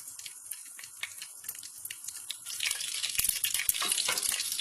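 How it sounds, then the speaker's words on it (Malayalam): Whole spices including cloves, cardamom and bay leaves frying in hot ghee and oil for Palakkad biryani, a steady broadband sizzle that swells louder in the second half, with faint crackles and occasional utensil taps. "നെയ്യും ഓയിലും ചൂടായിട്ടുണ്ട് നമുക്ക് ഇതിലേക്ക് പത്ത ഗ്രാമ്പൂ ഏലക്ക ബേ ലീവ്സ് ഇന്ന് വേണ്ട എല്ലാ സ്പൈസസും നമുക്ക് ഇട്ട് കൊടുക്കാം"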